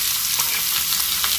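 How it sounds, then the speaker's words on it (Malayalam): Onion, garlic and ginger fry in a pan with a steady, dense sizzle and light stirring, close and continuous over a short stretch with no voices. "ഉള്ളി വെളുത്തുള്ളിയും ഒന്നിച്ചിട്ട് കൊടുക്കാം"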